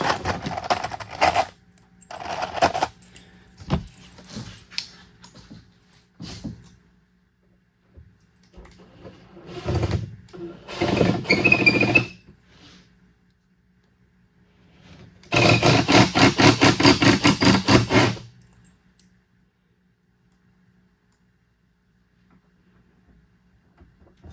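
A drill drives 2.5-inch Kreg pocket hole screws into wood while an activity table is being built, heard as several separate bursts of whirring with quiet gaps between them and one longer, louder final run.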